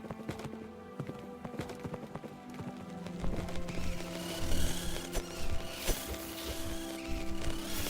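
Horse hooves in the Minecraft video game clip-clop in a quick, uneven rhythm, clear and close, with a steady low backdrop that grows louder partway through. No one speaks.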